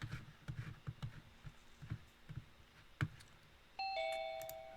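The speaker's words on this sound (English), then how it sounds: "there's another doorbell." A Zoom call's doorbell chime rings out as someone joins, a clear electronic two-tone ding near the end, heard faintly over quiet background tapping and room noise.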